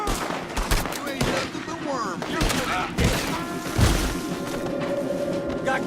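Rapid gunfire erupts in a Red Dead Redemption 2 shootout, dense volleys of loud cracks and thumps overlapping with shouted voices, near and continuous.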